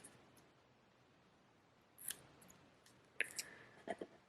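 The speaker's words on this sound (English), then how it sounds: "so I'm going to go ahead and cut that." Scissors snip a crochet yarn tail, giving a few faint, sharp metallic clicks and cuts close by against a quiet room, with no talking.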